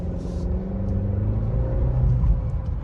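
Steady low road rumble and tire drone fill the cabin of a BMW 530i while it drives, a continuous dense hum with no voices.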